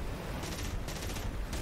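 Aircraft machine guns fire in a DCS flight simulator session with a 109K: a dense, rapid burst of rattling gunfire runs steadily throughout, loud and without talking.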